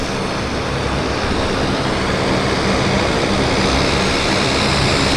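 Loud, steady roar of a floatplane engine at Vancouver Harbour Airport, a broad continuous drone that fills the space without letting up.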